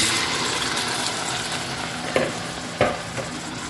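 Chicken sizzles loudly in a hot pan for Chicken Afritada, with a constant frying hiss and two sharp stirring scrapes breaking through near the end.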